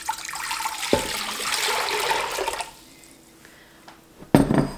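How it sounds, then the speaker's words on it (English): Water is poured into a pot for a Gouda cheese brine, a steady splashing rush lasting a couple of seconds, then a quiet gap before a sharp clank of the pot or jug near the end. "So I'm first gonna pour my water in."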